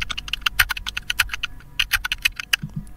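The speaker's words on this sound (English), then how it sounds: "Let's try keyboard typing." AI-generated keyboard typing effect: quick, irregular bursts of close key clicks and clacks, with a brief pause partway through and a couple of heavier thumps near the end, no voices.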